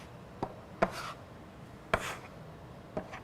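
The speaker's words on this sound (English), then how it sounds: "if we kind of chop it up, it exposes those wet areas and allows the flour to attach" A bench knife chopping flour into beaten egg on a work surface while making pasta dough for homemade lasagna noodles. Four sharp, separate knocks come at uneven intervals, close by and fairly loud, with no voices.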